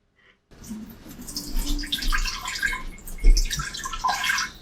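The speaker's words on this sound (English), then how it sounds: "We just need to add 1 cup of water." Water pours into an Instant Pot fitted with a trivet, starting after a brief silence as a close, splashing stream with a swell near the end.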